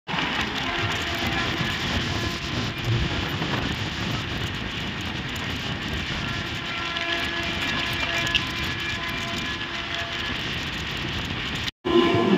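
A passenger train pulls out of Dehri on Sone station with a loud, steady rumble of wheels and carriages. The sound runs unbroken for about twelve seconds, cutting out briefly near the end.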